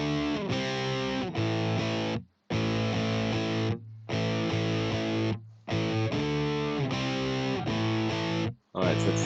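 Distorted electric guitar, a Telecaster with humbuckers, plays the chorus riff of a rock song: chunky repeated chord stabs in short phrases separated by brief pauses, loud and alone with no talking.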